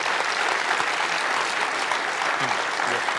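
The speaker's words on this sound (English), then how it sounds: "and applause" Audience applause at an awards ceremony, a dense, steady wash of many hands clapping at even loudness throughout, with no voices standing out.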